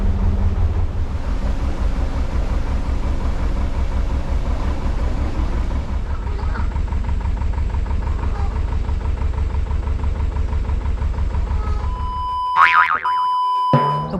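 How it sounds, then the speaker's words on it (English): Narrowboat diesel engine on a canal lock flight, a steady low rhythmic chugging that runs loud and close for about twelve seconds, then cuts out abruptly into near quiet with a few faint clicks and tones afterward. "the engine's just stalled"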